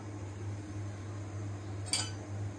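A lid set down on a cooking pot of batashi fish curry with potatoes and beans, giving one short, light clink against a steady low hum.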